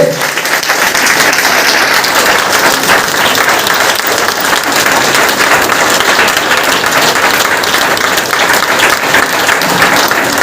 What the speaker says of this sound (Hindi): तालियां जबरदस्त होनी चाहिए।